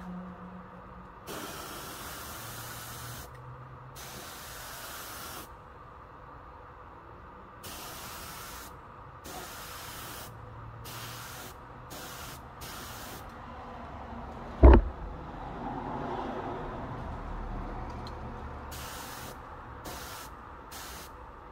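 Clear coat sprayed from a spray gun onto a restored car headlight, a steady soft hiss running through most of the clip in repeated passes, with one sharp click near the middle.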